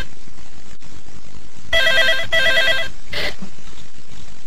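An electronic telephone ringer sounds in two short bursts of warbling trills inside a house, with a brief knock-like sound following, over quiet room tone and no talk.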